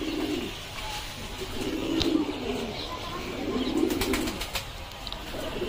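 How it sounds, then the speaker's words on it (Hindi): A flock of pigeons coos continuously at close range, repeated low throaty rolls overlapping one another, with occasional sharp clicks and chirps mixed in. "और ये है दोस्तों कबूतर,"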